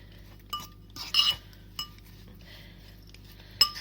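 Fajita meat and seasoning being mixed in a dish, heard as a few sharp utensil clinks and scrapes against the dish, spaced out and fairly close, with quiet pauses between them.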